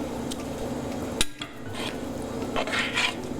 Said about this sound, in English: So you give this a nice little stir.